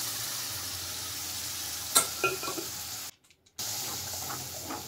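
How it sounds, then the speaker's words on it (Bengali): Spiced masala with tomato, coriander powder and beaten curd fries in a pan with a constant close hiss and a few spoon taps. The sound cuts out briefly to silence, then the frying resumes. "ভালো করে মশলা কষিয়ে নিচ্ছি"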